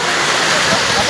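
Floodwater rushes through a flooded New Market street in a continuous loud, broadband wash, heard close by, with a voice speaking over it.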